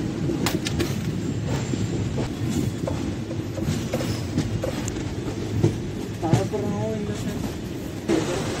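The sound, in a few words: Sabari Express train arriving at Coimbatore Junction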